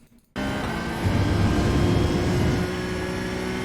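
A Porsche 992 GT3 Cup race car in iRacing snaps from near silence into a loud, steady full-throttle engine drone, holding a sustained high-revving tone with a slight surge in intensity partway through.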